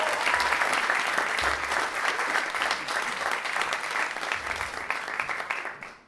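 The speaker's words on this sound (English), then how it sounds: "Huge round of applause, please, for James Barber at Waterstones" Festival audience applause at a Chiswick Book Festival event, a full, steady round of clapping filling the room that fades out at the end, with little talk.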